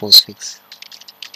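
A single Enter key press on a computer keyboard while installing GitLab on Ubuntu, sounding as a short near click among a few light typing taps, with a brief spoken word at the start.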